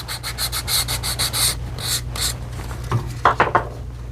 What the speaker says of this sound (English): We're going to scuff this up a little bit